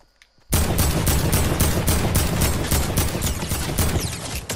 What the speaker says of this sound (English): Just gonna start shooting.